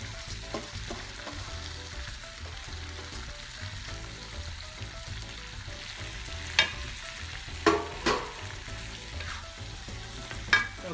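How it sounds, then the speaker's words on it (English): Rice and chickpeas (chana) frying in a pan, a steady close sizzle running throughout with a few sharper scrapes and clatters from stirring. "and just fry up the rice a little bit"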